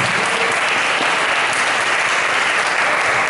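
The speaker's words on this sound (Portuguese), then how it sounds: "Vamos aplaudir ao Senhor glorificado a Deus." A church congregation claps loudly and continuously, a dense, even roar of hands filling the whole stretch without pauses or voices breaking through.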